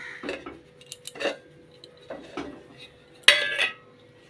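A pan of oil for frying luchi is set on a home stove, making a few light metallic clinks and knocks and then one louder clattering clank near the end, close by and without talk.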